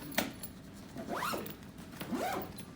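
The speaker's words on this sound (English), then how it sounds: "zip it up" A zipper closes a bag holding used PAPR equipment (hood, framework, hose and blower), two quick rising zips about a second apart, close and crisp against a quiet room.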